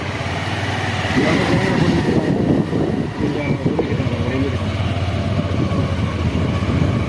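A train rumbles past close by near Pamban, on the new Pamban railway bridge line, its wheels clattering in a steady rhythmic rattle over a constant low drone.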